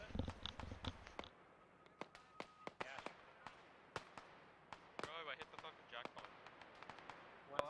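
Heavy incoming gunfire in a military video game: scattered sharp cracks and bangs at irregular intervals, some near and loud, others more distant, with a dense burst early on and occasional bursts later.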